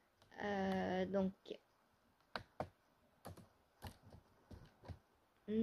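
A computer keyboard is tapped in short, scattered bursts of crisp key clicks separated by quiet gaps, and a brief voice is heard at the start and again at the end.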